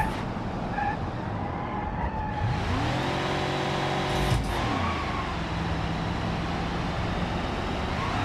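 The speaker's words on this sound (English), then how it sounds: "Flat out, baby. Engine's about to blow." An old car engine in the BeamNG driving game revving flat out, a loud sustained strained drone that climbs in pitch, drops briefly at a shift, then holds, with no talking.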